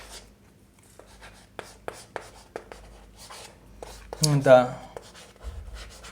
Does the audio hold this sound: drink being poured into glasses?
no